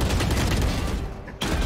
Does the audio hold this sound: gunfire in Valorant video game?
yes